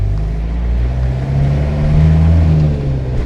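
An LDV Leyland DAF 400 camper van engine drones steadily and close up through a tight low-speed turn, a constant low rumble with no voices.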